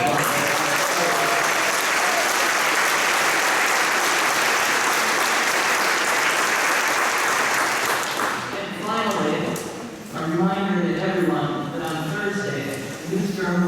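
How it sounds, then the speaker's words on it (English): Sustained debate audience applause fills the room for around eight seconds, then dies down as a speaker starts talking. "let's give Stetson University one more round of applause"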